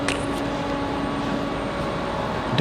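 An American Airlines Boeing 777 arrives at Raleigh-Durham International Airport, a steady, moderately loud engine roar with a constant tonal whine held throughout, no voices present.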